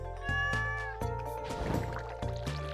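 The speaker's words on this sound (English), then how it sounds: "Cat speaks to me once a day." A cat meows repeatedly in the Stardew Valley farming game, a few separate drawn-out tonal calls in a row, clear and close, with soft background music beneath and no talk.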